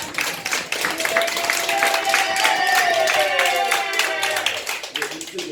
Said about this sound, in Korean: 목사님 건강을 해서 박수 한번 주세요